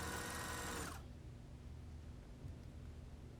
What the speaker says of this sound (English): Now sew in the closure